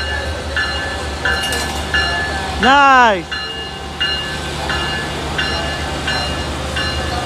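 An Amtrak Pacific Surfliner led by an SC44 locomotive rolls into Fullerton station with a steady rumble and a loud, sliding blast of its horn in the middle, and a person briefly speaks over it.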